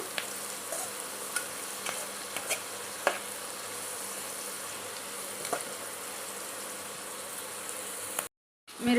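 Nalleru chutney ingredients fry in a pan with steady, continuous sizzling and occasional scrapes and clinks of stirring, fairly close, cutting off briefly near the end.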